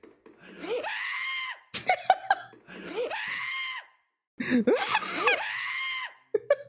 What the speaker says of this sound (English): But that scream though.